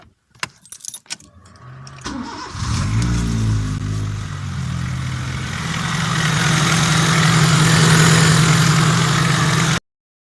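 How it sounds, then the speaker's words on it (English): Keys jingle briefly, then a Honda L13A i-DSI engine, after a head gasket change, cranks and catches, settling into a steady idle that grows slightly louder and holds until it cuts off. "So we just have to start your engine and see."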